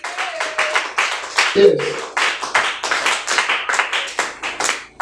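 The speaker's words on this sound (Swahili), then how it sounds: "Piga makofi mengi zaidi kwa ajili ya Mungu wetu." A church congregation claps hands at a prophetic service, rapid, strong, irregular clapping from many people close by, with a voice calling out briefly over it.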